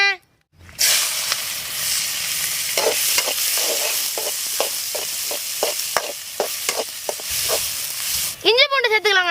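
Onions frying in oil for bamboo kothu parotta masala in an outdoor village kitchen, a loud continuous sizzle with rhythmic scraping strokes of stirring, then a brief voice at the end.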